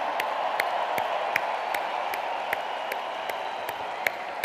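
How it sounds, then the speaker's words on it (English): A crowd at an international event applauds steadily, a dense, continuous roar of clapping with a faint regular ticking running through it. "Let's give a big round of applause"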